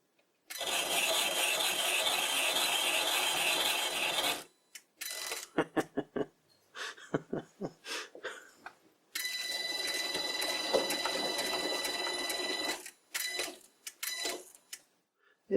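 A motor-driven spindle cuts a thread into wood with a harsh, rasping grind. A long continuous stretch gives way to short, choppy bursts, then another sustained run and a few final bursts, with quiet gaps between.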